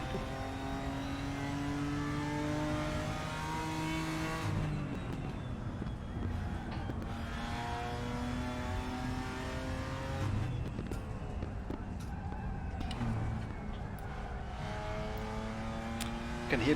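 BMW M4 race car in the RaceRoom video game, its engine revving through gear changes with rising and falling tones and occasional tyre noise, sustained and fairly quiet throughout.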